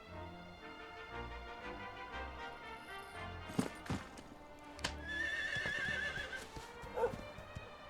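Horse in the video game Dragon Quest XI S whinnying with a rising call, mixed with clip-clop hoofbeats and a few sharp clicks, fairly quiet and clear.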